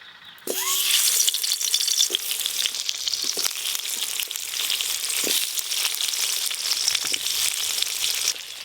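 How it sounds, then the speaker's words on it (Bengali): Raw green tomatoes rubbed with salt hit hot oil in a kadai and start a sudden, loud, steady sizzle that keeps going. A few light utensil clinks break through now and then. "লবণ দিয়ে কাঁচা টমেটোগুলো একটু ভালো করে ভেজে নেব"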